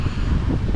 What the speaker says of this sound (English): It's pretty windy as well because there's no trees around to absorb the wind.